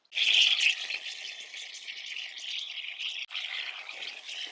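Freshly harvested turnip and beetroot being washed in water, a continuous close splashing and trickling with a brief break near the end and no voices.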